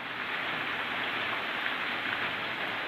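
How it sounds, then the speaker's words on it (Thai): Steady rain pours down in a dense, even hiss, continuous and close, with no voices. "ฝนตกมาแล้วหายไปเป็นแบบนี้ประจำเลยครับ"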